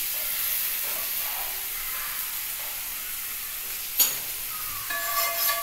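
Roasted semolina is stirred into potatoes and vegetables frying in a pan for spicy suji upma. A constant sizzling hiss runs under a sharp scrape and a few clinking stirs near the end.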